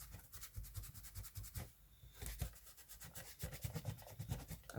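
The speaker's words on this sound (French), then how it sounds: "c'est une gomme à colle" A glue eraser rubs dried glue off a paper lantern in quick, steady back-and-forth scrubbing strokes, close and faint, with a brief pause midway.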